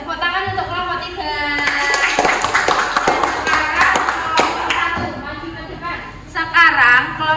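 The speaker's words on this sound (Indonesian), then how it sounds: "tepuk tangan untuk kelompok 3" Classroom applause for a student group after their worksheet presentation: a burst of clapping from many hands rises mid-clip and fades, mixed with children's chatter and a teacher's voice.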